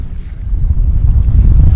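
Strong wind gusts of about 28 knots roar steadily against the microphone on a sailboat in a deep, rumbling buffet, with a faint wash of water beneath. No voices.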